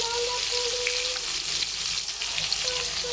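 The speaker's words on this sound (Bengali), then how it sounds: "এখানে মাছ ভাজা রাখছি" Rohu fish frying in oil in a home kitchen, a steady broad sizzle and crackle running without a break, with faint tonal hum in the background.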